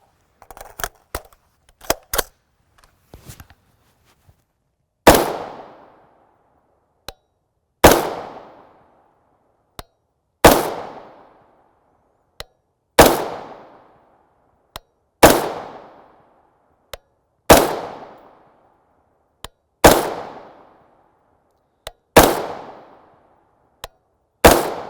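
AR rifle with a 16-inch barrel, EOTech sight and Hyperfire 24C trigger firing 5.56x45mm M193 55-grain FMJ rounds outdoors: sharp, loud single shots at slow, regular intervals, each with a long decaying echo, after a few lighter clicks.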